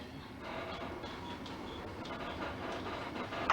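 Steady rumble of a train rolling along the tracks near the Britannia Beach copper mine, a continuous broad roar with faint rhythmic clatter and a brief louder rattle at the end.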